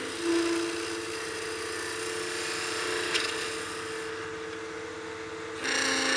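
A skew chisel cuts wood spinning on a lathe, a steady close scraping hiss over the motor's low hum and whine, with a faint brief change in tone near the end.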